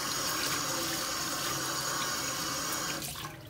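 Running water from a kitchen tap splashes steadily over farmed crocodile legs being rinsed in a sink, a continuous broadband rush that tapers off near the end.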